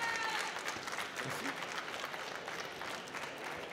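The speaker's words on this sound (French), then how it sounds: "Un applaudissement pour les juges." An audience applauds the judges at a semi-final service competition, steady clapping from a crowd that continues throughout.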